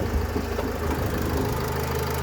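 The 2.0-litre diesel engine of a 2007 Nissan Primastar passenger van idles with nothing switched on, a steady low rumble with a faint knocking rhythm, close and alone.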